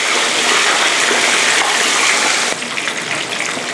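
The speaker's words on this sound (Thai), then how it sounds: "เดี๋ยวเราจะทอดปลาจนกระทั่งกรอบนะคะ" Boneless carp sizzles in a deep pool of hot oil in a Thai kitchen, a dense, steady bubbling hiss heard close and loud, easing slightly near the end.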